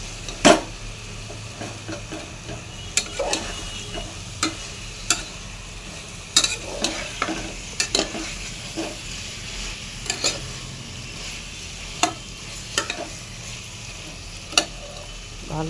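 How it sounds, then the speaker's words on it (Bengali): Chicken fries in a pan while a spatula stirs it. Irregular scraping knocks and taps of the spatula rise over a steady, low sizzle, with no talking. "পাটা দিয়ে ভালো করে নেড়ে দিতে হবে"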